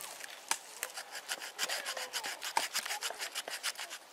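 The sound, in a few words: knife blade scraping a wooden stick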